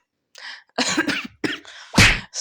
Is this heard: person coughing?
yes